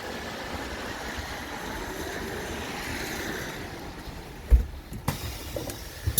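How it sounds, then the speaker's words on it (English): A London bus moving through the rain gives a steady, low interior rumble, quiet and even, with a few soft knocks and clunks near the end. "let me get on my bus because it's raining in London"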